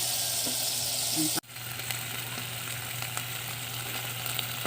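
Chicken sautéing with ginger, onion and garlic for chicken tinola with sayote, a continuous close sizzle broken once by a brief dip as the pan is stirred, then resuming steadily.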